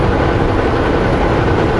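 A passing freight train heard from a car on the road, a loud dense continuous rumble and roar throughout the short moment.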